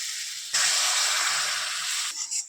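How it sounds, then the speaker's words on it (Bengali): Water is poured into a hot frying mustard spice paste for fish curry, setting off a sudden loud hissing burst of steam that holds steadily for about a second and a half, then dies back to a soft crackle. "এবার আমরা পরিমাণ মতো জল দিয়ে দেবো"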